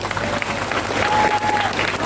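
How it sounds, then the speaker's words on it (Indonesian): A crowd at a large open religious gathering in Palangka Raya claps steadily for the police for about two seconds, a dense even wash of applause with a faint voice or tone running beneath it. "Tepuk tangan untuk Polri"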